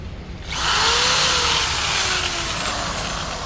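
A used Japanese rotary hammer drill with a hammer mode starts up and runs steadily at close range, a loud continuous whine with a faint pitch sweep, no voices over it.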